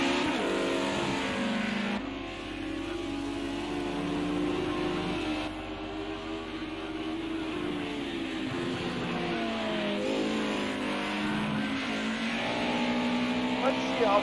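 Race cars in a game roar at full horsepower, a continuous droning engine whine with shifting pitch that holds for the whole stretch while a person talks over it.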